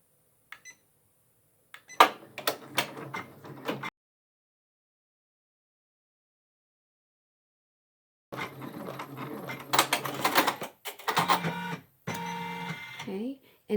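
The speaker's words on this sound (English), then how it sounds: "now you go ahead and stitch the next color, which is the tack down of the backing" A Janome MB4 embroidery machine stitches the backing tack-down with fast, clattering bursts of needle strikes. A burst plays, then silence, then a longer stretch of stitching with whirring and clicks.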